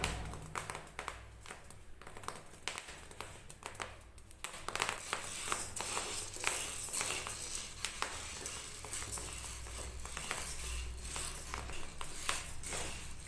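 Wheat grains being dry-roasted in a pan for dalia, giving a quiet, continuous crackle of small irregular pops and taps that grows slightly denser partway through, with no talking.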